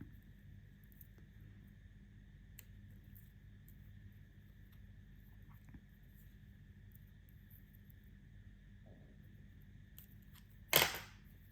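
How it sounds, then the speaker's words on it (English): Scissors snip through fine beading thread beside green beads while finishing a daisy chain bracelet, a single brief crisp cut near the end after a long quiet stretch with faint background hum. "we can also trim off this tiny little thread that got tucked down the green beads at the beginning"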